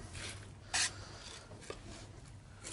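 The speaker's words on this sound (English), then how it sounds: "So you scrape off all that cure, like so." A knife scraping beetroot cure off a salmon fillet, giving quiet rasping strokes with one louder scrape near the start and a few softer ones after, and no talking.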